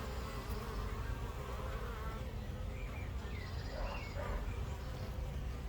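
A dense, steady hum of many honeybees buzzing close by at a hive, with individual insects droning past now and then.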